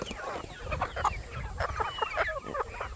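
Several chickens cluck and murmur close by in a busy, overlapping chorus, with rustling underneath and no talking.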